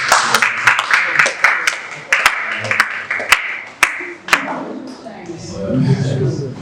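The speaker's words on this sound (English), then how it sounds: "I think they deserve a round of applause." Training workshop attendees in Abuja clap for the facilitators, a scattered run of sharp claps over a blur of group applause that thins out and gives way to murmured talk.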